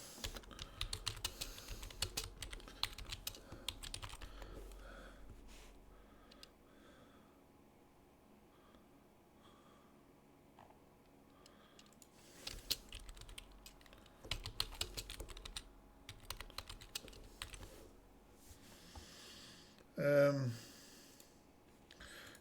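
Computer keyboard typing in quick bursts of soft clicks, fairly quiet, with pauses between bursts and a faint breath or sigh near the end.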